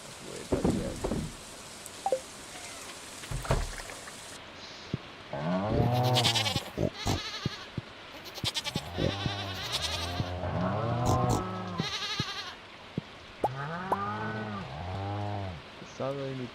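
Goats bleat repeatedly on a farm in Stardew Valley, a string of wavering calls in quick bursts spread across the stretch, with rain pattering steadily in the background.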